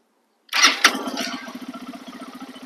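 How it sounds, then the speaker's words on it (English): A fuel-injected Lifan KPX 250cc motorcycle starts after a brief crank, catches loudly and settles into a steady, quiet-exhaust idle with a regular pulsing beat, close by and without talk. "we're going to go ahead and give it the first start up so you can actually see it start up, hear it."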